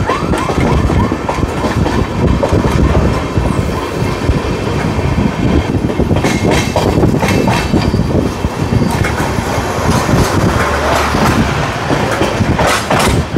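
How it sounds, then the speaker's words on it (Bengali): Sealdah–Jalpaiguri Road Humsafar Express pulling into Ranaghat station, a steady loud rumble of wheels with rhythmic clickety-clack over rail joints and occasional metallic squeals, continuous throughout with no talking. "রানাঘাটে ট্রেন ঢুকছে"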